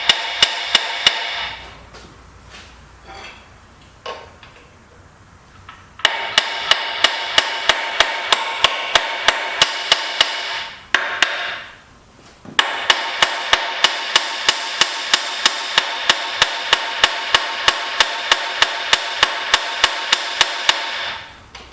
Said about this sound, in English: I guess we'll have to use the hammer. Maybe we can tap it off a little bit.